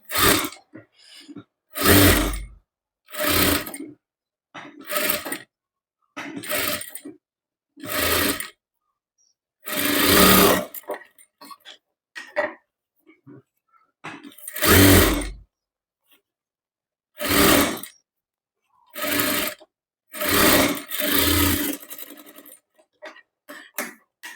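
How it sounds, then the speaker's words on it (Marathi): A sewing machine stitching a blouse runs in short loud bursts of about two seconds each, separated by brief pauses, close up and steady throughout, with no talking. "आता या ठिकाणी संपूर्ण ब्लाऊज हे टीच करून घेणार आहे"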